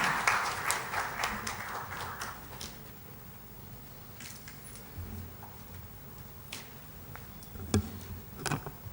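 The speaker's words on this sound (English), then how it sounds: "I request all of you to give a big round of applause." Conference audience at a cardiology society annual meeting clapping, a loose scatter of individual claps, denser at first and then sparse and distant, with a few louder isolated claps near the end.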